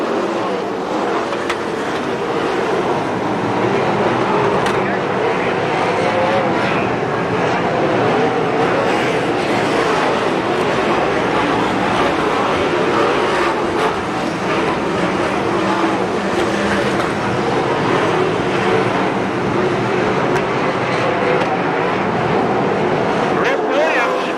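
USAC/CRA sprint cars race around the Santa Maria, California track, their engines a continuous loud roar with no break, under steady race commentary.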